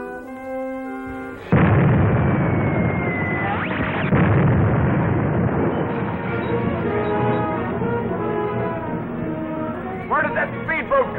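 Deck gun on a boat in a 1940s serial firing at a speedboat out at sea: loud booming shots and rumbling blasts come over dramatic background music, with no clear voices during the barrage.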